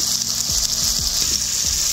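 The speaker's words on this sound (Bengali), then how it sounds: "ওপর থেকে এই যে তেল, মশলা থেকে খুব সুন্দর তেল ছেড়ে দিয়ে এই যে তেলগুলো ভাজছে" Oil and spice paste fry in a pan for a soybean do pyaza, a bright continuous sizzle with soft scraping stirs underneath, close and steady.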